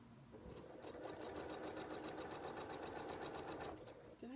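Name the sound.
sewing machine stitching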